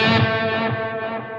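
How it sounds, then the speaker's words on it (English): Electric guitar through a Line 6 Helix with reverb switched on, sustained distorted chord ringing with a washy, lingering tail, alone and fairly loud. "So we're going to get reverb here."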